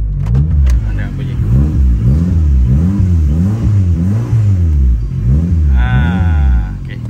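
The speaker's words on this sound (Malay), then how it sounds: "Okey, kita dengar bunyi exhaust dulu lah." A Toyota Rush fitted with a turbo and aftermarket exhaust revs repeatedly in a steady series of close, loud throttle blips, ending with a higher whine near the finish.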